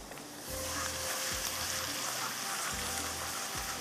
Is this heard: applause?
no